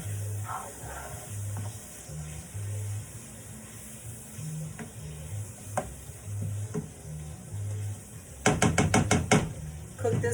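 Stuffed pepper filling of meat and cheese being stirred and frying in a pan, a steady low sizzle with soft scraping, then a quick run of sharp spoon taps against the pan near the end.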